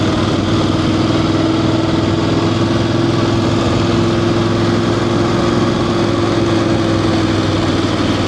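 Voge DSX 900 motorcycle engine running steadily while riding up a mountain road toward a castle, a continuous loud drone with wind noise and no speech.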